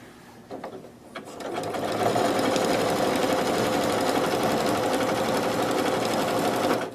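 A sewing machine runs steadily, stitching binding onto the back of a quilted accessory over pinned, tucked-under edges. After a couple of brief starts it settles into a continuous, close, fairly loud whir that carries on to the end.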